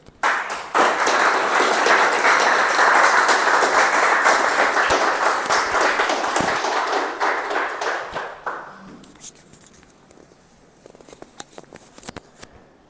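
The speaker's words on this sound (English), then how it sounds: "Please welcome on stage with a thunder sound of applause, our counter for today's meeting, Toastmaster Ajay." A Toastmasters meeting audience claps for a member taking the stage, full steady applause for about eight seconds, then fading to scattered claps.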